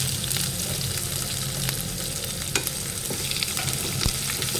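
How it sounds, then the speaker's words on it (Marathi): Onion fries over low heat in a pan with bay leaf, cloves, peppercorns and dried red chilies. The sizzle is steady, dense and crackling, with faint stirring clicks throughout and no voices. "कांदा लाल होईपर्यंत परतून घ्यायचा आहे"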